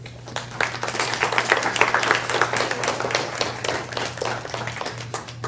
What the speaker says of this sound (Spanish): Un aplauso para Mitsu, ¿no?